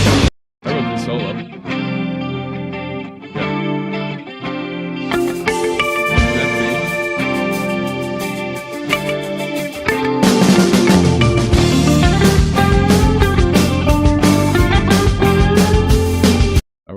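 Electric guitar solo over a full band, with chorus-tinged tone: busy melodic lines above drums and bass, building to a denser, louder section near the midpoint and stopping abruptly at the end.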